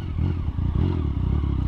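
A three-cylinder 1050cc motorcycle engine runs close by with a loud, deep, throbbing idle and a rapid pulsing rhythm throughout, with no talk over it.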